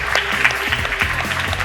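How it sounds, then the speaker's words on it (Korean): Audience applause at a televised science concert on artificial intelligence, clapping steadily at moderate loudness under faint background music, with no talk. "마이봇한테도 박수 한번 쳐주시죠."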